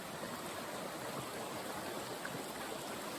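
Shallow creek water flows steadily over a low, rocky stretch, a constant broadband rush with no voices, close and even throughout.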